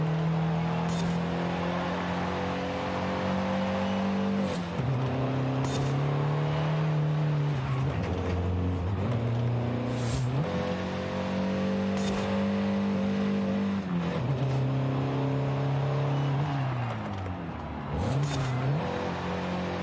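A 1970 Datsun 510 engine in Forza Horizon 5 revs hard and steadily, its pitch falling and rising through repeated gear changes, one shift fumbled, with brief hissing bursts between the loud sustained engine drones.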